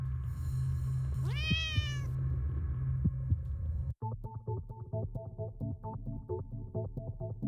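A cat in The Cat Lady video game lets out a rising, drawn-out meow over a low throbbing heartbeat hum. A musical plucked pattern then takes over after a brief cut, and nobody speaks.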